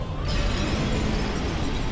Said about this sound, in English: he's doing the explosion